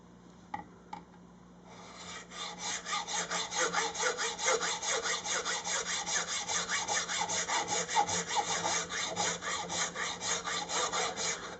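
A fine-toothed saw cuts a slot into the nut of a Les Paul guitar, just above the mahogany, in fast, steady back-and-forth strokes close by after a couple of light taps.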